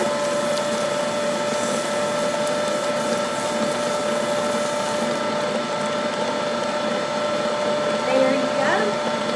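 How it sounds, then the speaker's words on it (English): An electric stand mixer whirs steadily while mixing butter cake batter, a loud, constant motor drone with a high tonal whine, and people talk close by over it. "So we are going to turn on the mixer"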